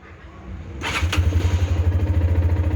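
A SYM NH X 125cc motorcycle starts up at close range: a brief whirring crank, then the small engine catches and settles into a loud, even, pulsing idle.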